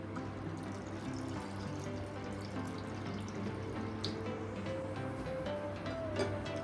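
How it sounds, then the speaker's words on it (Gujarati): Water pours steadily over sago pearls in a container in a continuous, even splashing stream, with no voices. "સાબુદાણા ડૂબે ને એટલું આપણે પાણી એડ કરશું"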